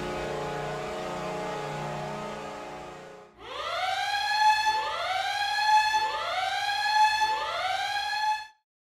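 A siren sound effect plays as a hot take alert in an NHL division predictions segment: a long steady tone, then rising and falling wails repeating about four times, loud and alone without speech.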